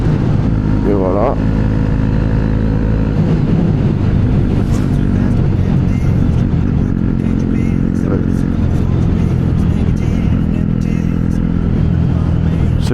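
A motorcycle ridden to class in the morning, its engine a loud continuous drone with shifting pitch and wind buffeting throughout, briefly rising as it revs.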